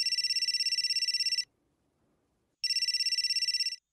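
A telephone's electronic ringtone plays in a Marathi TV drama scene, with two loud, fast-pulsing ring bursts separated by a short quiet pause. No one speaks over it.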